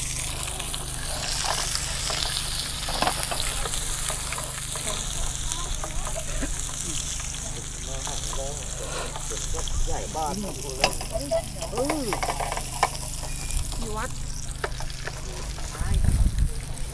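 Food sizzling in a hot pan with a little oil at a tent campsite, steady crackling fry with bursts of spattering throughout, close and loud, while people talk over it.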